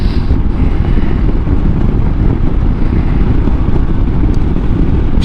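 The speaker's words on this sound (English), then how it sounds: "Slightly bit windy" Heavy, constant wind roars into the microphone while riding a Royal Enfield Himalayan motorcycle, a loud buffeting rush that covers everything else throughout.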